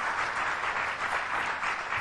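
A dense, continuous wash of audience applause fills a Las Vegas hypnosis show by Anthony Galie, many hands clapping at once, steady and moderately loud without pause.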